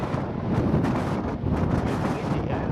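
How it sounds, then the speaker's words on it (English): Strong coastal wind roars and buffets against the microphone in gusts, a loud continuous rumble with nothing else audible. "Quite windy near the coast here too."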